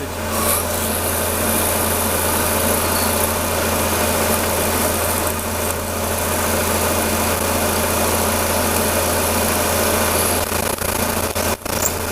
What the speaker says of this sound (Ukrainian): І сверлим сверлим діаметром 5 на глибину 18, е, можна навіть 20.